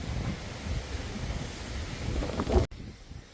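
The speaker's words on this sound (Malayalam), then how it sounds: "കാറ്റ് കണ്ടോ നിങ്ങൾ" Strong wind buffets and roars across the microphone in a steady rush on a hilltop at Sooryanelli, then cuts off abruptly near the end.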